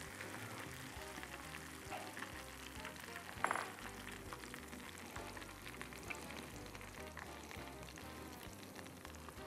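Sesame- and nigella-seed-coated breaded cauliflower fries in hot oil with a dense, crackling sizzle, plus one louder clatter and a few faint handling sounds, and no voices.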